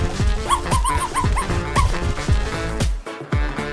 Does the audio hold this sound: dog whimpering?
yes